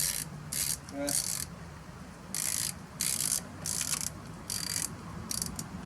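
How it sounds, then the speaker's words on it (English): Repeated bursts of rasping ratchet clicks, close and fairly loud, as the front sprocket cover bolts on a Suzuki Bandit 1250S motorcycle are worked loose with a number 4 Allen key, with short pauses between the strokes. "You have to remove the front sprocket cover using a number 4 Allen key"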